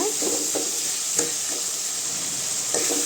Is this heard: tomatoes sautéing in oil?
yes